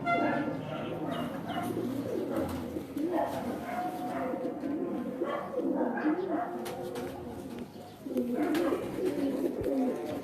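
Breeder pigeons in a separate loft setup on a rooftop in Moch, Mianwali, cooing in overlapping low, throaty rolls under steady talk, with a dog barking now and then in the background.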